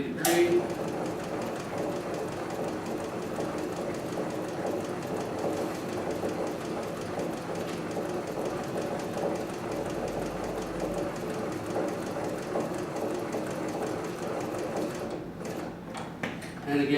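An industrial sewing machine runs a box pattern of stitching around a piece of work. It makes a rapid, even mechanical chatter at moderate level, and the rhythm shifts slightly near the end.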